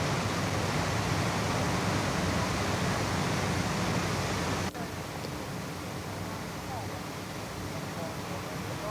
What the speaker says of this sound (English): This waterfall can be found at Yellowstone National Park.